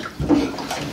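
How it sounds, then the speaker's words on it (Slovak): Bathwater splashing around a toddler in a home bathtub, a short burst of close sloshing and slapping water with no talk over it. "Ťap, vodu šplecháme."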